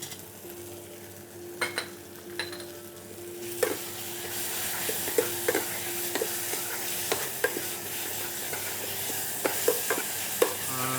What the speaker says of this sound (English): Mix the masala, and then we'll add some tamarind.